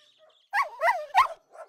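Purebred Bichon Frise puppy in a cartoon pet store, giving a few short yips and whimpering barks close up, with a faint high tone before them.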